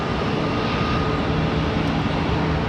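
A CRJ regional jet departs Charlotte Douglas airport with a loud, steady broadband engine roar that holds constant throughout.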